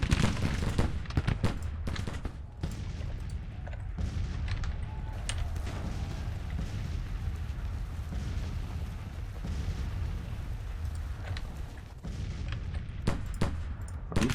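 Musket volleys and artillery in a Civil War strategy battle in Grand Tactician: Civil War crackle and boom continuously, dense rattling gunfire layered with deep blasts and a rumbling din, loud and unbroken throughout.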